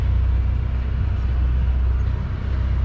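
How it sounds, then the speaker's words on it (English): A Mercury 220 horsepower outboard engine pushing a barge near a marina fuel dock, a steady low droning rumble held evenly and fairly loud for a few seconds, no voices. "See, there's a Mercury 220 horsepower on that pushing the barge."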